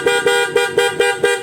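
Loud aftermarket horn on a Honda ADV160 scooter, sounding in six rapid evenly spaced honks, close and piercing with a steady tonal blare and no talking.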